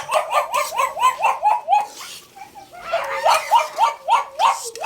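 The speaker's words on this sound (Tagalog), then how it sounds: "Pasensya, maingay yung aso." A dog barks rapidly and loudly in quick runs, pausing briefly before starting again with a fresh string of sharp, close barks.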